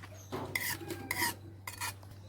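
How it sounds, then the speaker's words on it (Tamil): A spoon stirs tomato rice through oily tomato gravy in a cooking pot, making three bursts of scraping, clinking strokes over a steady low kitchen hum, close and fairly loud with no talk. "நல்லா கிளறி விட்டுருங்க"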